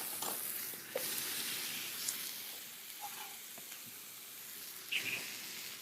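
Onions hit chorizo fat in a pan and fry with a soft, continuous sizzle, broken by a few sharp crackles and stirring clicks, fairly quiet and close, with no voices.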